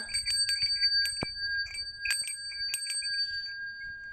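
A bell from a home collection of bells is struck repeatedly, giving bright metallic strikes with ringing overtones in an uneven rhythm, close and fairly loud, then fading out near the end.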